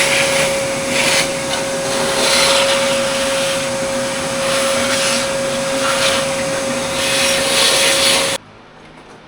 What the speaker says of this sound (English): So let me go grab the shop vac.